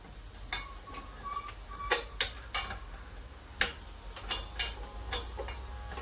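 Gas stove being switched on in a home kitchen while making double ka meetha: a scatter of sharp, dry igniter clicks, some single and some in quick pairs, fairly close over a low steady background hum.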